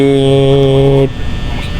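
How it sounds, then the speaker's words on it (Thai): A loud office fan drones in the horror game Five Nights at Freddy's. The steady, buzzing hum holds for about a second, then cuts off abruptly, leaving quieter background noise. "เสียงพัดลมโคตรดังอ่ะ"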